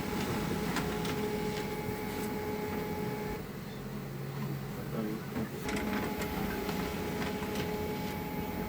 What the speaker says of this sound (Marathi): प्रिंटर